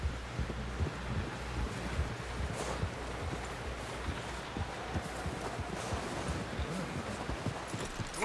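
A horse in Red Dead Redemption 2 clopping along at a steady walking rhythm, hoofbeats fairly close over a constant windy outdoor backdrop, with faint voices in the scene.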